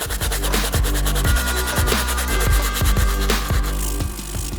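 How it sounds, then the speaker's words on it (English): Hard brass bristle brush scrubbing the soles of Jordan 14 Forest Green sneakers, a steady run of loud, close back-and-forth strokes in a quick repeating rhythm with no talking. "using the hard brass bristle brush to clean up the rest of the soles"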